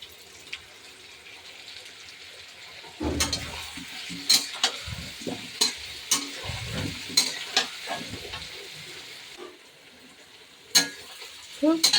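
Spices sautéing with asafoetida in a pan, a steady low sizzle with a series of sharp clinks and scrapes as a utensil stirs, fairly close and moderately loud throughout.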